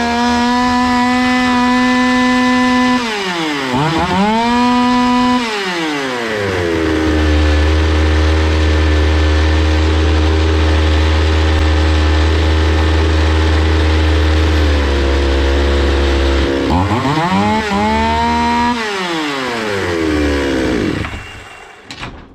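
A Zomax 5020 chainsaw engine runs steadily after a carburetor adjustment, holding a buzzing idle, revving up twice in rising and falling sweeps, and settling between revs.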